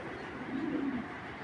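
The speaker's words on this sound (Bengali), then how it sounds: "এটা একটা নর কবুতর" A male racing pigeon coos softly at close range, a brief low murmuring call lasting about a second against a quiet background.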